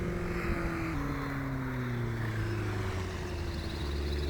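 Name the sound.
STOL aircraft engine and propeller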